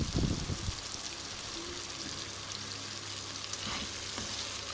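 Potatoes, tomatoes, green chillies and spices stirred in a pan, with a soft, continuous cooking hiss and a few scraping stirs near the start, fairly quiet and without speech.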